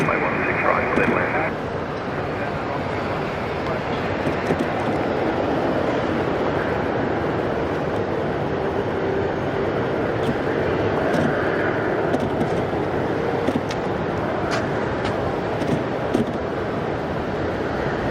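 A jet airliner lands on runway 16 right at Sydney Airport, its steady, loud roar filling the whole stretch with little change in level.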